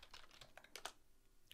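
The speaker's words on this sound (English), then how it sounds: "Here, let me type that." Quick bursts of keystrokes on a computer keyboard, a short run of clicky taps with brief pauses between them, close and fairly quiet.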